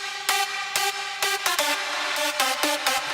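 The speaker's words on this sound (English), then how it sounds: "It's a really big saw sound with a lot of reverb" A huge layered saw-wave synth lead in an EDM style, drenched in heavy reverb, playing a rhythmic pattern of sustained chord stabs that wash into one another, loud and alone with no voices.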